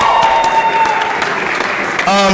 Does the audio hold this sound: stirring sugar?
no